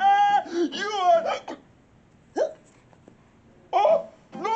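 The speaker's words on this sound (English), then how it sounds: "You gave me your hiccups!" A person hiccups repeatedly, with sharp, close gulping catches spaced unevenly among bits of vocal noise and laughter.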